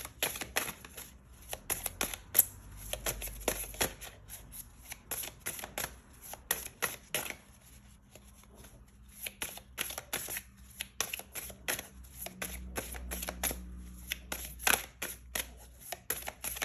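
A Cosmic Guidance oracle card deck is shuffled close up, with repeated quick riffling and flicking bursts of cards separated by brief pauses, and no talking.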